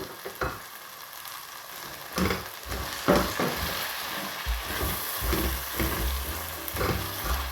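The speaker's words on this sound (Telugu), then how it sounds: "ఆయిల్ విడిపోయేటంత వరకు ఫ్రై చేసుకున్నాను ఇప్పుడు ఇందులో నేను పెరుగు వేస్తున్నాను" Yogurt is added to a sizzling pan of paneer makhana masala fried in oil, a steady crackling fry with several sharp stirring clatters and a deeper bubbling that builds toward the end; no voices.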